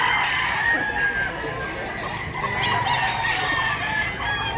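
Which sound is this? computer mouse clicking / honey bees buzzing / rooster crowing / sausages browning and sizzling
rooster crowing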